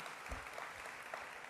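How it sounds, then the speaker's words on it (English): An audience at a Full Sail University award event claps, a soft, fairly distant patter of applause with a few sharper claps standing out, continuing steadily throughout. "we can clap for that, for Marlene and for all the wives and the kids and the parents and the families"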